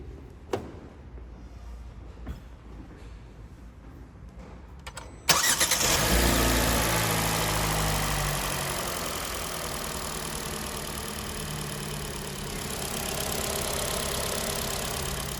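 A Hyundai Tucson SUV engine cranks and catches with a loud burst, then settles into a steady, low idle that hums on for several seconds.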